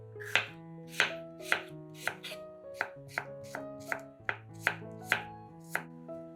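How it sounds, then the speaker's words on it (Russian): A knife cuts a sweet pepper into half rings on a cutting board, about fifteen crisp, evenly spaced chops close up and fairly loud over soft background music, with no talking. "Перец нарезаем полукольцами."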